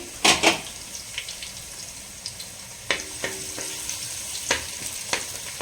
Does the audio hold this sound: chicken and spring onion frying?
yes